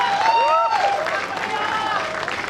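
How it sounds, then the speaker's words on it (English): A crowd at the Chemcon 2022 event applauds and cheers steadily, a broad, sustained wash of clapping mixed with whoops and excited voices throughout. "Once again, give a huge round of applause."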